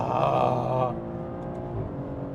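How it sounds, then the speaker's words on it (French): A Maserati Grecale Trofeo sport SUV on winter tyres revs hard, its exhaust roaring loudly for about a second before dropping to a lower, steady drone. "Oh, ce bruit d'échappement!"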